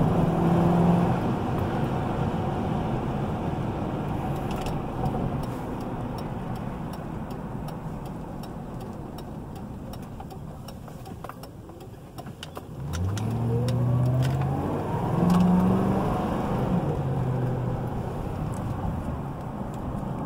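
Ford Crown Victoria accelerating on an open stretch, its engine droning steadily before a rising rev swell builds loudly in the second half, with a faint ticking alongside.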